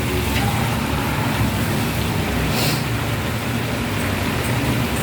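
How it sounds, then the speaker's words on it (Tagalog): Steady rain falls outside a home kitchen during a downpour while chicken afritada with potatoes cooks, a constant dense hiss with low rumble running unbroken throughout, no voices. "Maulan po."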